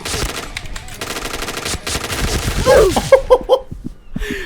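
Gunfire from shooting bots in the online shooter Point Blank, with several bursts of rapid shots growing louder and denser toward the end, layered over game noise and music.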